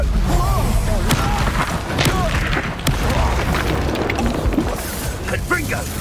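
Confringo fire-blast spells burst repeatedly during a Hogwarts Legacy duel, sharp booms and cracks layered with combat clatter while voices shout spell names and taunts throughout.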